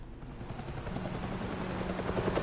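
A helicopter in Batman: The Telltale Series video game whirs with a steady, loud rotor chop that swells slightly over its short span, heard alone without voices.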